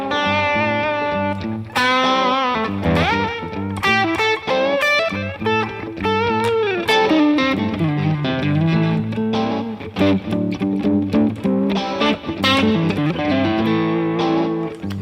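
Electric blues guitar played softly through a distortion or overdrive, a flowing run of picked notes and bends at low volume, played alone without talk.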